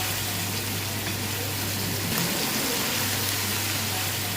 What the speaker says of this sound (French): là maintenant je l'ai cuit dans l'huile directement